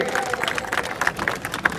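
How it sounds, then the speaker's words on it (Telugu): A crowd at a statue unveiling ceremony claps together, a steady patter of many hands, moderately loud and continuous throughout. "గట్టిగా ఒకసారి చప్పట్లతో స్వాగతం"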